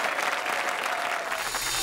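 A studio audience on a Bhojpuri television show gives a contestant dense, continuous applause, a loud, even roar of many hands clapping together.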